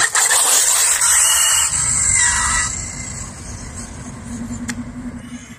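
An Arrma Limitless 6s RC car runs, its electric motor giving a high whine that builds, sweeps and fades as the car speeds away into the distance.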